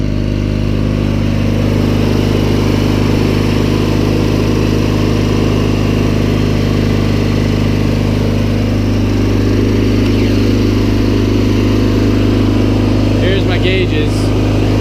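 A Cub Cadet 1811 riding lawn tractor engine idles loudly and steadily, a constant low rumble that runs throughout with little change, nearby.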